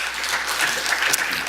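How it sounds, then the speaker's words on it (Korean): A conference audience breaks into a short burst of applause, a dense, steady clatter of clapping hands with no voices over it. "여러분 큰 박수 부탁드리겠습니다"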